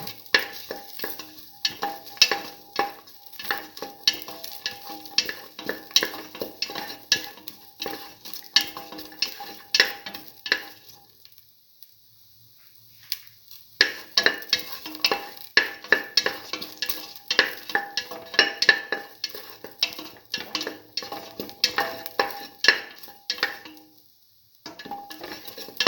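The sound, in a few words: sautéing and stirring garlic mung bean mixture in pan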